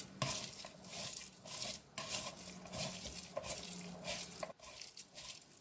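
Red lentils and Malabar spinach being mixed by hand in a bowl, giving soft, wet squelching and stirring sounds that run steadily with brief pauses, close up and fairly quiet, with no talking.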